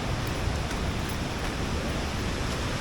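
Savatkada waterfall in Konkan roars as a steady, dense, unbroken rush of water, full and even throughout with no pauses.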